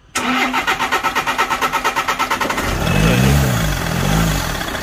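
A VW Crafter diesel engine cranks with a rapid rhythmic starter chug for about two and a half seconds, catches, then revs up and down in two rising and falling surges, close and loud.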